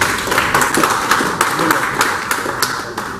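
Golf club members at an end-of-year presentation give a sustained round of applause, dense overlapping claps with sharp individual hand strikes throughout, loud and close.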